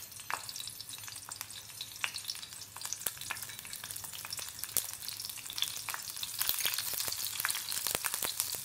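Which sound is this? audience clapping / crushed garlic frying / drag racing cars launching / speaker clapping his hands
crushed garlic frying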